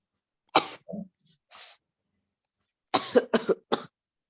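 A person coughs in short, close bursts: a couple of single coughs, a pause, then a rapid cluster of harsh coughs.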